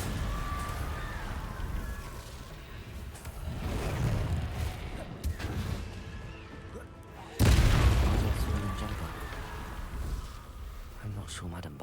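Incendio fire spells go off in Hogwarts Legacy, with deep whooshing booms bursting out twice and a heavier blast partway through, then fading over a low rumbling game background.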